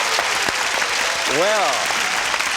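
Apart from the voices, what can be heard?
studio audience applause on a game show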